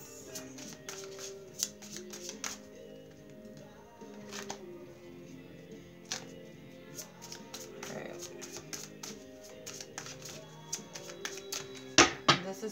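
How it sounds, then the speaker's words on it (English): Tarot cards are shuffled at close range, giving soft repeated riffles and scattered sharp taps and flicks at an uneven rhythm, with a louder burst of snaps near the end. "I'm gonna go ahead and shuffle the cards."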